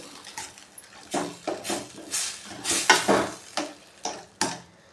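Cooked tomato being mashed with a ladle in a pot for a thick cumin tomato sambar: a series of wet squelching strokes with metal scrapes, irregular rhythm, close and fairly loud.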